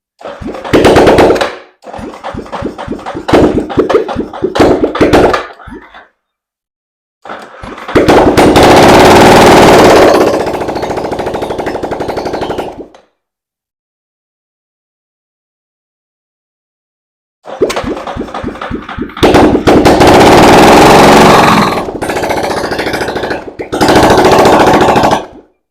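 Yamaha Raptor ATV engine running with no muffler, loud and harsh with rapid staccato popping, revving in bursts separated by silent gaps, close by.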